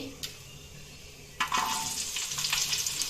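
Cumin seeds drop into hot oil in a pan for an egg gravy and burst into a sudden loud sizzle, with a faint click first and stirring scrapes after.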